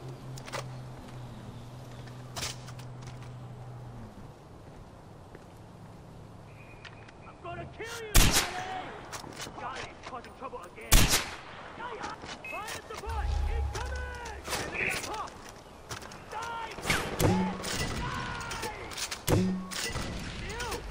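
Gunfire in the video game Far Cry 4, heavy booming shots fired one at a time at uneven intervals over steady background ambience, with people talking throughout and radio-style voice chatter.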